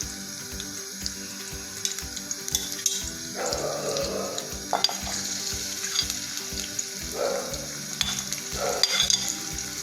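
Onions frying with ginger and garlic in a pan for flavoured rice, a continuous sizzle with regular stirring scrapes and brief splashy bursts, close and moderately loud, no talking.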